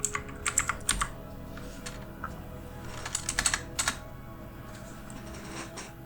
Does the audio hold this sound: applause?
no